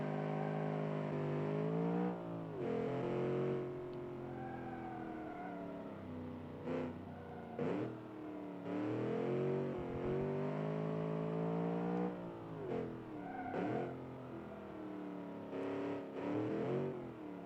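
A 1967 Le Mans prototype race car accelerating hard on a drag strip, its engine note climbing through several loud, close upshifts with brief dips between gears and a sustained high-revving roar.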